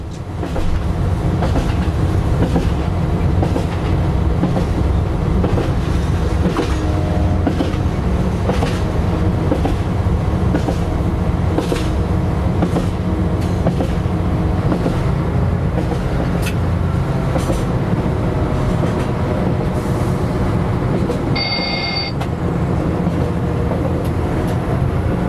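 Train on the Brive-la-Gaillarde to Aurillac railway line rolls steadily with a constant loud rumble, wheel clicks and rattling carriage, heard from on board without pause.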